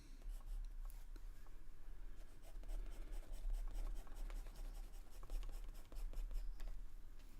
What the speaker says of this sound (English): I can hear someone's pencil scratching in Zoom. That scratchy pencil sound.